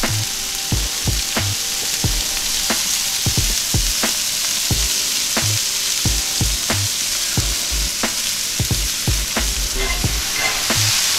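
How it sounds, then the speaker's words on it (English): Corn and beans fry in a hot pan over high heat with fajita seasoning and lime, giving a loud steady sizzle broken by regular sharp scrapes and knocks as the food is stirred and kept moving. "Cook it on high heat. You gotta keep it moving."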